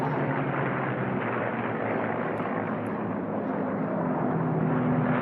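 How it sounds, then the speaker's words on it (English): Continuous roar of unlimited-class propeller racing airplane engines during an air race heat, steady and fairly distant, with a faint buzzing drone holding throughout and no voices. "these airplanes that you see racing"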